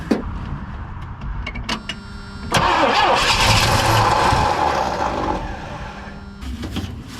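A 1978 Pontiac Trans Am V8 cranks, then fires and catches into a loud, steady run close by. The engine holds a rough, slightly loping idle, and there is no talk.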